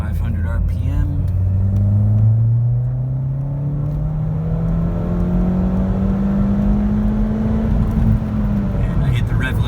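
Ford Fiesta ST with an X47 turbo pulls hard in third gear from 2500 RPM toward redline, the engine note climbing steadily and loud in the cabin over a deep road rumble.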